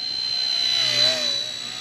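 A small $100 RC spy helicopter with AI tracking flies indoors near wooden beams, its steady high-pitched rotor whine holding close and loud throughout, swelling briefly midway, with no talking.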